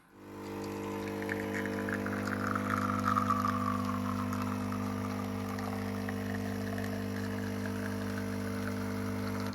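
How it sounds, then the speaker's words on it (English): A Lavazza A Modo Mio espresso machine brewing a shot: a steady low pump hum with several constant tones and a faint trickling wash on top, continuous and moderately quiet throughout. "let's get a shot of espresso going"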